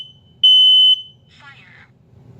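A Kidde P3010CU combination smoke and carbon monoxide alarm sounds a loud, shrill test beep, then a short stretch of spoken voice warning follows before the beep starts again.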